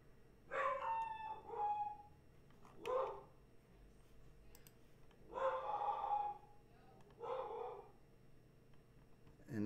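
An Australian blue tick hound mix dog bays and barks indoors in about five long, howling bursts separated by short pauses, loud and close, with no talk.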